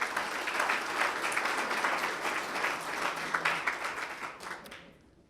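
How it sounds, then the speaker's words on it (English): A room full of people at a city chamber-of-commerce event applauds steadily for about five seconds, a dense wash of clapping that gradually thins and fades out. "Give that a nice round of applause."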